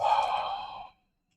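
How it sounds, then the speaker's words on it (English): A single long, steady breath exhaled during a yoga breathing exercise, close and fairly loud, lasting just under a second before trailing into silence. "And exhale."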